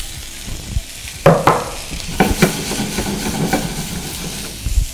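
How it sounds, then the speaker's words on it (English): Vegetables hit a hot pan of olive oil and sizzle steadily as they are stirred, with scraping and clattering utensil sounds on top of a constant frying hiss. "So I'm just gonna stir fry these veggies."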